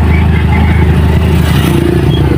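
Steady roadside traffic of cars and motorcycles passing close by, a loud continuous drone of engines with rising revs and clatter and no gaps.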